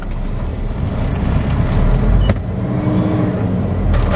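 A flatbed truck is being put in gear to back up. Its engine rumbles low and steady close by, with a single sharp clunk partway through.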